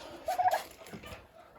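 A Big 6 turkey gobbles once in a short, bubbling burst, fairly close, then a quieter trailing call follows against a faint background.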